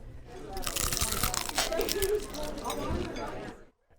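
Fried chicken gets bitten into with a loud, close crunch and crackle that fills most of the moment before cutting off abruptly.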